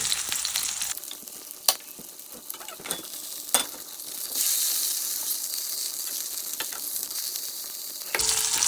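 A pork chop fries in a pan with a steady, close sizzle. A few sharp ticks and clicks from the pan or utensils break in now and then, and the hiss grows brighter partway through.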